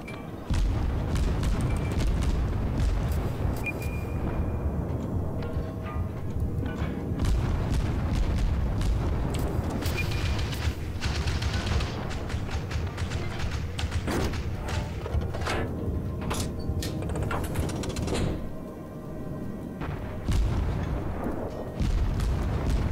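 Heavy naval gunfire from a cruiser battle in World of Warships, deep booming salvos and impact thuds recurring across a continuous rumbling battle din, with loud blasts at irregular intervals throughout.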